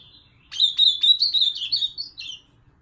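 A female ultramarine grosbeak sings a short, bright phrase of a few rapid chirping notes, close and clear against a quiet background.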